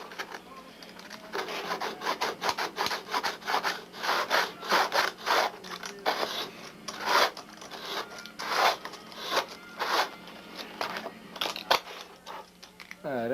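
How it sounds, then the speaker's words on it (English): Sandpaper doubled into two layers rasps back and forth across a model airplane spinner being fitted, a steady series of close, loud rubbing strokes in quick rhythm with no talk. "I just doubled up the sandpaper"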